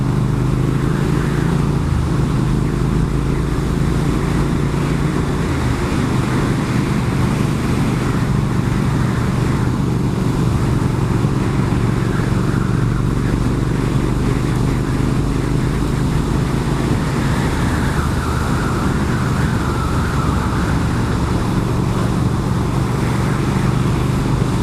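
A 2019 Triumph Speed Twin motorcycle is being ridden, giving a steady engine drone with wind rush that holds without a break, with no talking over it.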